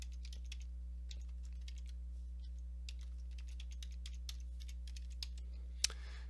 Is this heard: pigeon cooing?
no